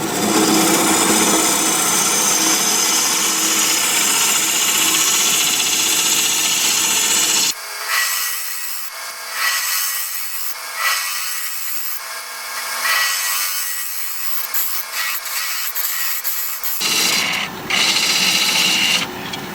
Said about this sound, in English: Mark out for a recess, and for that I'll use a 1/2 inch bowl gouge.